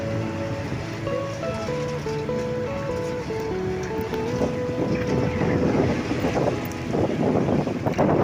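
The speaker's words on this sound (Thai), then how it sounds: "มานั่งเรือข้ามฟากนะครับ 4 บาทนะครับ" Ferry crossing the Chao Phraya River in Bangkok near Wat Arun, a crowded passenger boat with steady engine drone, wind buffeting and water wash, tonal hum throughout and no talk.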